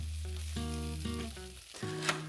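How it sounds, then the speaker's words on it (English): Lightly floured rabbit pieces brown in a frying pan, a soft sizzle running throughout beneath bright tonal clinks and scrapes, with no talking. "We've lightly floured them and browned them in a frying pan"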